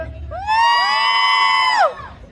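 Shouting from a festival audience at the Maranakatte genda fire-walk, mostly small children, rising together into a loud sustained high-pitched yell that holds for over a second and then drops off.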